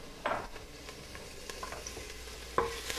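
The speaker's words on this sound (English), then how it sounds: "And just saute that around" Garlic sautéing in a pot as the base for a tomato-based vegetable soup: a steady low sizzle with a few sharp spoon scrapes and knocks against the pot, the loudest near the start and end.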